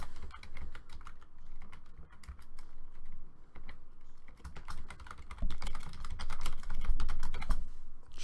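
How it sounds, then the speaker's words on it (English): Steady typing on a computer keyboard during a live stream setup, dense rapid key clicks close to the mic, continuing without pause and growing a little louder toward the end, with no talking over it. "Just typing in some stuff."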